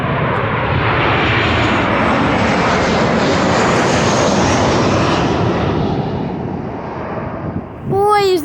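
Jet airplane passing low overhead near O'Hare airport, a loud sustained roar that swells and slowly fades over several seconds, with a brief beeping chirp near the end.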